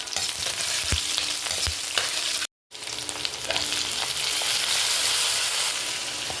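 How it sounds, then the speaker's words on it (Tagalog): Ginger, garlic and onion sautéing in hot oil for a Filipino monggo stew, a steady close sizzle and crackle with a few stirring scrapes, broken by one brief cut to silence midway. "Pamagisa tayong ricado. Luya. Bawang. Sibuyas."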